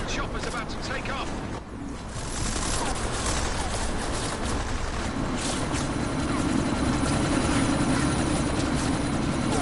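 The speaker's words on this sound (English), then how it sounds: "That chopper's about to take off." Military helicopter about to take off in the video game Deus Ex, a dense continuous rotor and engine roar with rattling gunfire bursts mixed in, loud throughout.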